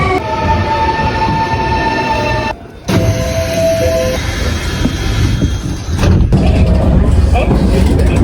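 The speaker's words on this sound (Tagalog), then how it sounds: "So, andito na yung train." A train pulls into a station in Japan with a steady loud rumble and rail noise throughout, briefly dropping away before returning; a person speaks over it.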